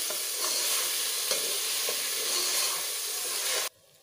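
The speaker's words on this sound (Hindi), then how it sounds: "हम इसके अंदर जो है दो अदद मैश किया हुआ प्याज डालेंगे इसको हम मिक्स करेंगे अच्छे से" Two mashed onions frying in hot oil as they are stirred, a close, bright, steady sizzle with soft scraping strokes that cuts off abruptly near the end, no talking.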